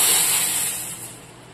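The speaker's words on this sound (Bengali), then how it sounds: "দেখো জল ফুটে গিয়েছে, ওগুলো ফুটছে" Water boiling in a pot before Maggi noodles go in, a steady bright bubbling hiss heard close and alone, easing slightly toward the end.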